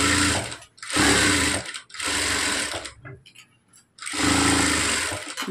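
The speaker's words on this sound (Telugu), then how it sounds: "ఇప్పుడు మొత్తం 4 వైపులా కుట్టేసేయండి" Electric sewing machine stitching a plain blouse in a beginners' tailoring class, running in several loud bursts of rapid needle chatter separated by short pauses, close up, with a faint voice between bursts.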